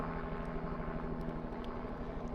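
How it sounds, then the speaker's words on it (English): A tour helicopter passes overhead near the carved granite faces of Mount Rushmore, a steady, loud rotor and engine drone that fills the whole stretch without a break or any voices. "they have helicopter tours, as you can hear."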